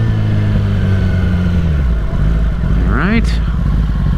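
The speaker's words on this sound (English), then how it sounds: "The motor has a very weird idle too. It almost sounds like it's missing an idle." A 2021 Kawasaki ZX-10 motorcycle engine with an uneven idle rumbles loudly up close, then revs in a quick rising blip near the end, with someone speaking briefly over it.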